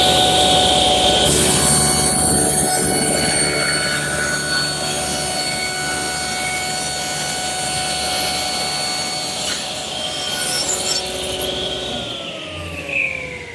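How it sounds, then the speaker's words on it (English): A table saw rips a plywood panel, its motor whining loud and steady for most of the cut before the pitch drops as it spins down near the end, with no talk. "I've just ripped the panel to 21 inches wide"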